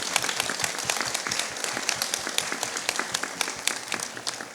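A seated audience claps during an arts and culture lecture marathon in a Venetian palazzo, a steady round of applause whose individual claps grow sparser and more distinct as it tapers off.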